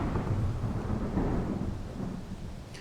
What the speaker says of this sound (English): Oh wow, I freaking love rain.